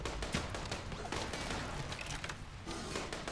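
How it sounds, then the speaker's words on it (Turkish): Turret gunfire from the Rimworld video game rattles in dense bursts against a mechanoid raid, loud and continuous with crashing impacts, and no voices over it. "Bize sıkıyor taret."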